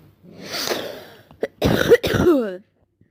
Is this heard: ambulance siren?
no